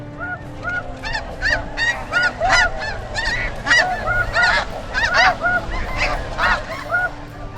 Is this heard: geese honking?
yes